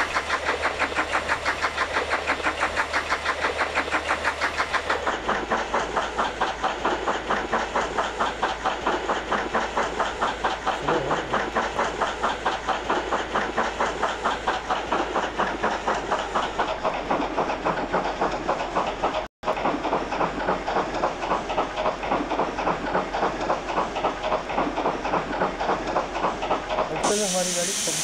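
A 1942 steam engine train in a video game runs steadily with a loud, continuous chugging rumble and hiss, a rapid rhythmic pulse throughout with one brief dropout near the end and no talk.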